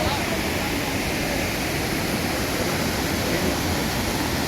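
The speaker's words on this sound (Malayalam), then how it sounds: "ഇതെല്ലാം മുകളിൽ നിന്ന് വെള്ളച്ചാട്ടത്തിൽ നിന്ന് വരുന്ന വെള്ളമാണ്" Water rushing down from Thusharagiri waterfall over large rocks, a loud, unbroken broadband roar with a voice speaking over it.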